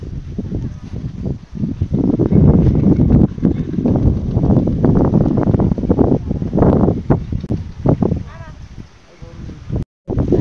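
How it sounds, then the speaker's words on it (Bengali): Strong wind on a village riverbank buffets the microphone in loud, rumbling gusts that rise and fall for about ten seconds, with a brief dropout near the end. "বাতাসের শব্দ হয়তো আপনারা শুনতে পাচ্ছেন।"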